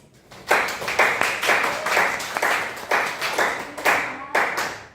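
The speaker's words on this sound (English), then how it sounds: "Applause, guys" Classmates clap for a student's final academic speaking presentation in a classroom, the applause coming in uneven bursts of a few hands with short gaps between them, fairly close and loud, with no talking over it.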